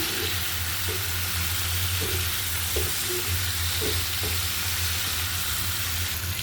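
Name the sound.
hilsa fish roe stir-frying with spices in a pan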